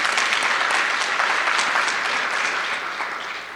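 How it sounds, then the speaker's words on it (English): A crowd at an awards ceremony claps steadily in sustained applause, fairly loud, fading slightly toward the end. "Please give them a round of applause."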